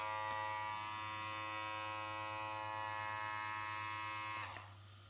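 A VGR V671 electric hair clipper runs in turbo mode with a loud, steady buzzing hum close by, then winds down near the end as it switches off and the sound fades.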